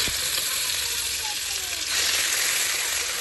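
Fish frying in a small amount of hot oil, a loud continuous close-up sizzle with a brief knock at the start and a slight surge partway through.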